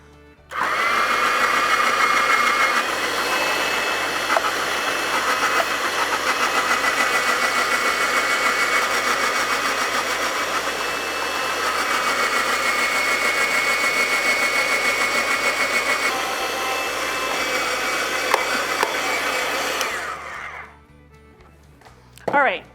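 A food processor shreds peeled carrots for a carrot cake with a loud, steady, whirring grind that runs for about twenty seconds before cutting off abruptly.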